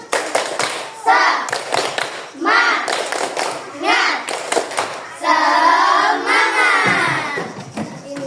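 A school class performs the 'tepuk semangat' clapping routine, a patterned burst of rhythmic group claps alternating with children's voices chanting in unison, loud and close in a classroom.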